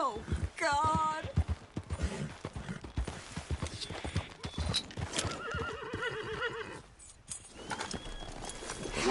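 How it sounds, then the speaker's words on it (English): A horse in the video game Red Dead Redemption 2 gives a loud whinny while its hooves clop, with someone shouting and talking over it and birds cooing in the background. "Get me off this goddamn horse!"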